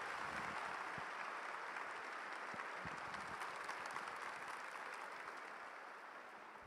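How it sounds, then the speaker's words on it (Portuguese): An audience applauding after a testimony at a religious event, a dense steady wash of clapping from many hands that stays fairly distant and slowly fades toward the end. "vale uma salva de palmas bem mais forte"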